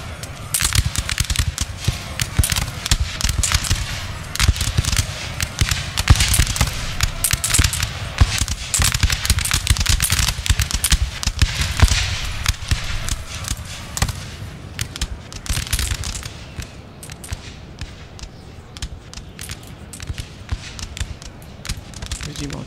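Musket volleys crackle in a Napoleon: Total War battle, dense rapid bursts of massed gunfire popping like firecrackers, loud at first then thinning out, with someone talking over it at times.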